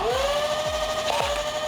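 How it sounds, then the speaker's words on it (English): A full-auto 3D-printed Nerf blaster fires three quick single shots at about half-second intervals, each a short thump, over a steady flywheel whine. "this blaster has a pretty fast fire rate, so I'm going to try to pop off one shot at a time"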